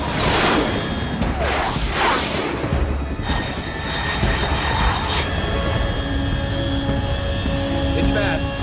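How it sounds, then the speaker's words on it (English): Fast aircraft at high altitude in Metal Gear Solid 3, a loud broad whooshing roar with rumbling swells, heard under radio-style talk. "unidentified aircraft detected"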